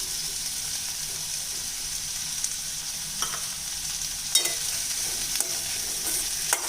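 Grated coconut stirred into tomato kurma in a pan, giving a faint continuous sizzle with soft scraping from the spoon and a few light clicks of utensil against metal.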